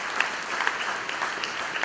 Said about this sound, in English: Let's go round of applause to Murat